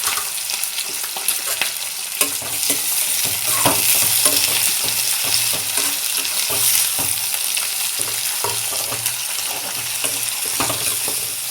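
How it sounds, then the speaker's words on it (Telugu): Curry leaves and onions fry in hot oil for a Rayalaseema uggani dish, a loud, continuous sizzle and crackle with scattered pops and the scrape of stirring close up. "మరి మనం ఇట్లా కరివేపాకు వేసుకుంటే ఎక్కువ చిట్టుపట్లు ఆడుతుంది"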